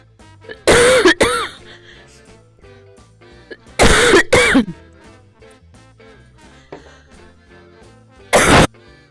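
Three loud bursts of coughing and throat clearing, close by, spaced a few seconds apart, each a cluster of harsh hacks, with quiet machine hum of a quilting session in between.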